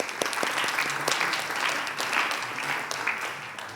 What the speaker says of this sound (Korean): 자 박수 한번 더 쳐주세요